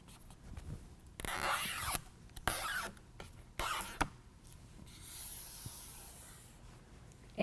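Adhesive tape backing peeled off a Rugged Ridge window rain deflector on a 2020 Jeep Gladiator: several sharp, close ripping bursts, then a softer, longer hiss as the last strip comes away.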